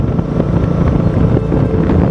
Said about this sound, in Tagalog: baka hindi ninyo ako marinig dahil sobrang mahangin